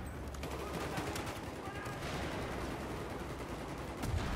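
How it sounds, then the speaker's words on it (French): Dense gunfire from a Battlefield 4 multiplayer match, a continuous rattle of rapid shots with distant booms layered under game ambience, steady and loud throughout with a stronger burst near the end. "Ah, moi je tire. Je tire dans la tête du pote."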